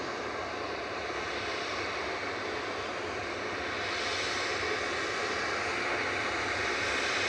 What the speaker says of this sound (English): We've got Jet2's JZHG just lining up in front of us here, 737-800, with flight 915 to split.